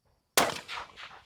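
A single rifle shot during precision rifle practice at an outdoor fence-and-gate stage, a sharp loud crack with a rolling echo decaying over about a second.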